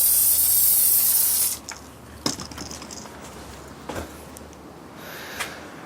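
Snow foam sprayed onto a car outdoors in wind, a loud steady hiss for about a second and a half that cuts off, followed by a few faint knocks and rustles.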